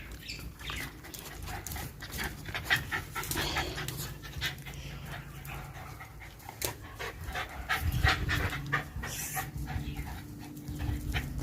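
A dog pants steadily and rhythmically close by, with a few soft whimpers, in a home setting.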